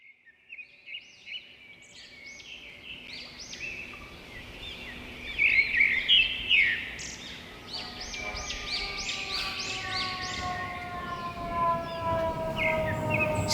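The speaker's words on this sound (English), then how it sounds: "Sparrows and sirens." Busy sparrow chirps fill the air while a siren wails in the background, growing louder and steadier toward the end.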